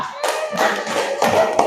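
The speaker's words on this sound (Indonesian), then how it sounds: "Tepuk tangan untuk kelompok" Students in a classroom clap for a group in a short burst of brisk applause, several hands slapping in quick uneven bursts over under two seconds.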